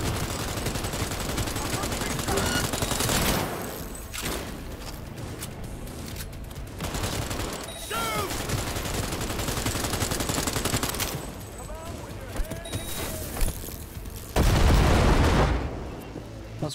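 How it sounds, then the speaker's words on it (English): Dense gunfire and grenade blasts in the video game Cyberpunk 2077: sustained rapid shooting in loud bursts, pauses between volleys and a heavy explosion near the end. "Those grenades are so broken in this game, like they just completely obliterate."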